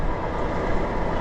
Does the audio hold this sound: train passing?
yes